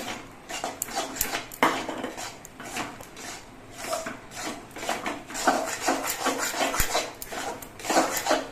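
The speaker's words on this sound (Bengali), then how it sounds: "চালের গুঁড়ি দিতে হবে আর নাড়তে হবে" Rice flour is stirred into cooked palm fruit pulp, a thick mixture worked with a utensil in a pot, producing repeated scraping and rubbing strokes at an uneven rhythm, close and fairly loud.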